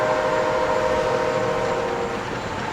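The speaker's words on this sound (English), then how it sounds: "Beautiful sounds of the train." A train rumbles by nearby with a steady, dense roar and faint whistling tones, continuous throughout the short stretch.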